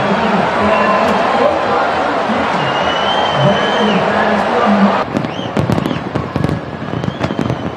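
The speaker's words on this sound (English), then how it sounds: "Those spectacular fireworks are being launched from 10 barges that are spread out across the sea." Fireworks launched from ten barges spread across the sea off Copacabana beach at a New Year's midnight celebration, a dense continuous roar of bursts, then sharp individual crackling booms, with a large crowd audible beneath.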